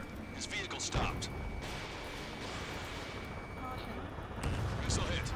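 Continuous rumbling gunfire in Ace Combat 7 as an aircraft fires on a ground vehicle carrying a VIP, a dense steady roar with sharper bursts near the start and end, while radio voices talk over it.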